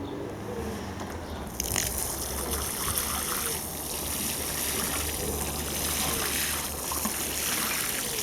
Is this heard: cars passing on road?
no